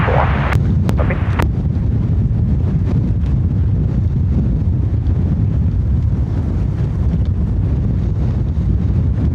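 Strong wind buffets the microphone at Dublin Airport, a steady low roaring rush lasting throughout with a few brief sharp clicks near the start.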